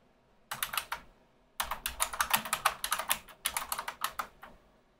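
Rapid keystrokes on a computer keyboard while entering text in Apple Motion, close and clear, with a short burst, a brief pause, then a longer steady run of typing.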